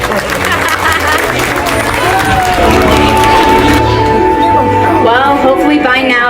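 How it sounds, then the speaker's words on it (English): Audience applause and crowd noise at an educational dolphin show in Florida, sustained throughout the clip with voices mixed in and a tonal sweep in the latter half. "so let's give them a big round of applause"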